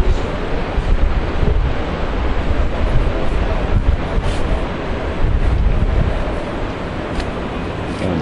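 Overcast, chilly Ocean Shores beach with ocean surf rolling steadily under strong wind buffeting the microphone, loud and continuous without a break.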